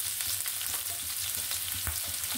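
Chopped onions frying in a pan with cardamom, cinnamon and bay leaf, giving a continuous moderate sizzle with a few soft crackles and stirring taps, no voices.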